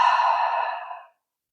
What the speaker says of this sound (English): and exhaling fully out the mouth